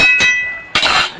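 A spoon stirs curry in a metal pan, striking it in two sharp, ringing clinks, the second louder and followed by a brief scraping rattle.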